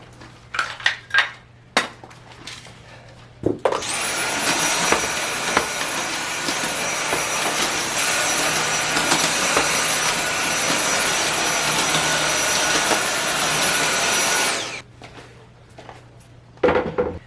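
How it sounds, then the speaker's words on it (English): A vacuum cleaner runs over an entryway floor, starting abruptly into a loud, steady roaring whine that holds for about eleven seconds before cutting off, with light knocks and handling sounds before and after. "We'll move that table out of the way and vacuum real quick."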